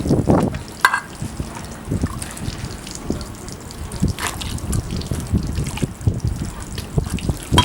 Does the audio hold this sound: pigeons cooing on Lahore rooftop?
no